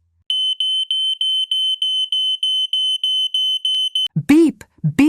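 A smoke alarm in a mansion beeping in a rapid, regular string of sharp high pulses, loud and close, then a voice begins speaking.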